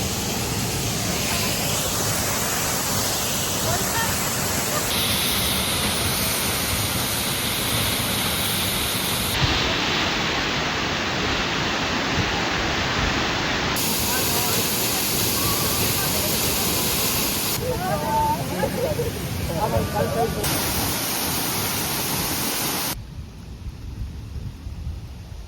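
A small waterfall in Kazbegi rushes with a dense, continuous roar, heard close and loud throughout, with abrupt shifts in tone between segments and faint voices beneath.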